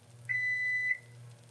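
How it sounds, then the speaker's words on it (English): A kitchen timer gives one steady electronic beep lasting about half a second while turkey pot pie cooks, heard fairly close over a low background hum. "The timer's done."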